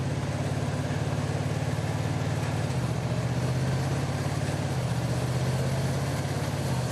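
A Honda DCT motorcycle engine runs under light throttle, giving off a steady, close, low hum with slight shifts in pitch partway through, and no talking.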